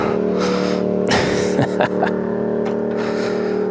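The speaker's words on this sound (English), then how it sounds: "There goes the Africa Twin, and then a Kawasaki RS 900. There goes an R1." A Honda Africa Twin, a Kawasaki and a Yamaha R1 ride past one after another on a busy trail, loud engine roar with rising and falling passes under a steady close engine hum, and no voices.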